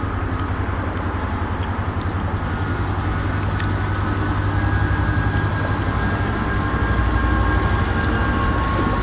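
A Chiltern Railways train passes through a station, a steady rumbling drone with rhythmic wheel clatter that holds close and loud throughout, with faint higher tones above.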